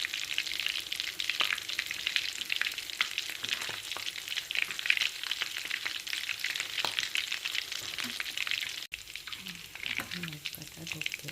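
Cutlets frying in hot oil with a steady, dense sizzle and crackle throughout, briefly dipping near the end as a few low clinks and faint background sounds come through.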